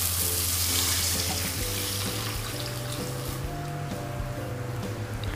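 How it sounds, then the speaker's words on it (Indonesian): Water poured into a pan of sautéed spices for spicy Korean-style tofu soup, a steady loud rushing and sizzling pour lasting throughout, with no talk. "Sekarang masukkan air."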